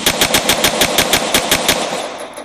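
Rapid pistol gunfire in an Unreal Engine game test: about a dozen sharp, evenly spaced shots fired in quick succession, loud and close, ending with a fading tail.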